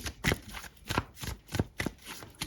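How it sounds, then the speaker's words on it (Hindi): Osho tarot cards are shuffled close up in quick, crisp riffling bursts, about six flicks in a steady rhythm, with no talk. "4 कार्ड्स लेंगे हम ओशो के दिसंबर 2024 फॉर एक्वेरियस"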